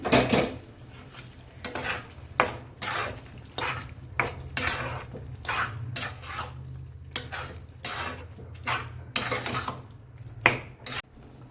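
A spoon scrapes and clatters against a metal pan in repeated bursts as peas are stirred into cooked masala, with a steady low hum underneath.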